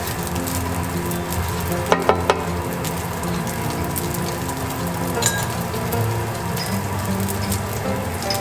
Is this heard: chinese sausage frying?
yes